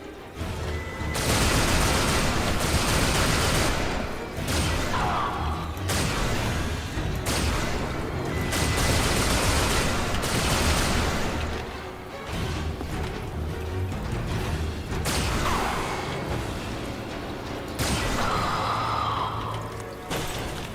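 Video game weapons fire in a dense, continuous barrage of loud blasts and booms lasting about twenty seconds, with crashes and layered explosions and no pause in the noise.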